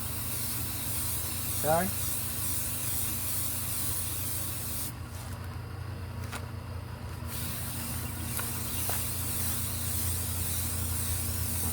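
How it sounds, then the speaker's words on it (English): Spray primer hisses steadily onto a prop for a Shark City Ozark GW model kit, a close, continuous rush that briefly thins in the middle, with a voice speaking quietly once. "Spray it all the way around."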